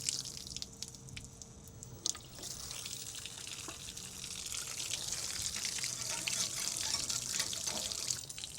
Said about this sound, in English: I still have the water hose running.